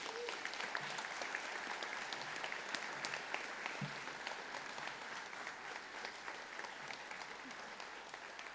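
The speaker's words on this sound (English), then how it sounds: "Let's have one more round of applause for our graduates." Sustained applause from an audience at a police academy graduation ceremony for the 61st class, steady and fairly distant, filling the room evenly without a break.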